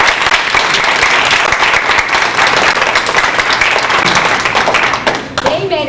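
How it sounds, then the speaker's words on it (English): A big round of applause from the audience at a Brownies bridging ceremony, with dense, steady clapping that fills the room for about five seconds and then begins to thin out at the end. "they deserve a big round of applause."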